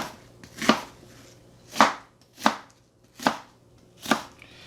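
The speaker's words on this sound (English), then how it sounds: "So you could just go ahead and cut your onions." Onions are cut into medium pieces with a knife on a board, five distinct chopping thuds spaced about a second apart, close and clear with no talking.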